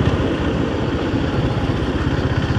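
Honda GB350S motorcycle engine running steadily up close during a ride, a continuous low rumble with no voices.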